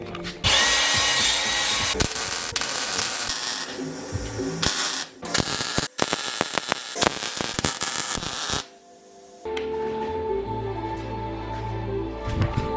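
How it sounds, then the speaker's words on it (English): Welding a tacked-up exhaust on a Dmax ute, a loud, continuous crackling buzz running in bursts with brief breaks, then a steadier lower hum with some tonal machine noise toward the end. "Let's weld him up."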